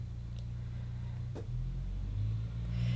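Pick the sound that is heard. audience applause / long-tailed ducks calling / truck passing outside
truck passing outside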